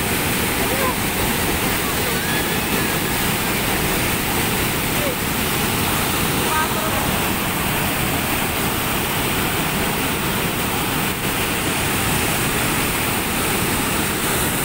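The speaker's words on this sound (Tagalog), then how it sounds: "patuloy ang pagdagsa o ragasa ng tubig" Loud, steady roar of floodwater from Angat Dam during Typhoon Ulysses, pouring through continuously, broadband and unbroken for the whole stretch, like a torrent released from a dam.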